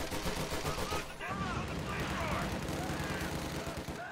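Gunfire crackles through a video game battle as the enemy assaults a position, with dense overlapping bursts under game voice callouts and a busy loud mix throughout.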